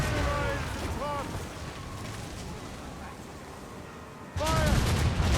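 Ship cannons boom in heavy, rolling volleys during a naval battle in Assassin's Creed Rogue, with a dense rumble that eases off and then surges again near the end, while crew voices shout over the gunfire.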